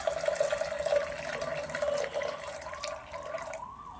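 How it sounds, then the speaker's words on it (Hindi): Warm water poured into a cooking pot or pressure cooker holding chana dal, a steady close trickling stream with a bubbling tone that fades out near the end. "थोड़ा सा पानी ऐड कर देंगे।"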